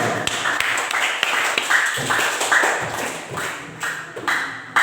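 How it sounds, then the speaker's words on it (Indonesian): A morning class of students clapping hands together, a short burst of scattered, uneven claps close by, thinning and fading over a few seconds. "Baik, tepuk tangan untuk kita semua."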